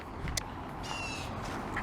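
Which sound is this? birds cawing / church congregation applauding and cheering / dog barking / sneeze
birds cawing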